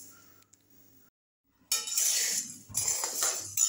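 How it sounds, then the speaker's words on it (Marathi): Sago pearls go into a hot wok to dry-roast for potato papad. Near-silence gives way to a sudden loud, rattling, hissing rush that continues with small dips. "कढई चांगली तापलेली आहे तर आपण त्याच्यात साबुदाणा घालू."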